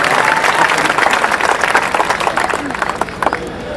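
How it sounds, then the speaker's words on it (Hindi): A crowd at a Hindi comic poetry gathering applauds the committee with lively, uneven clapping that is loud at first and eases slightly, while a voice carries on over it. "एक बार पूरी कमेटी के लिए तालियां बजाएं साहब"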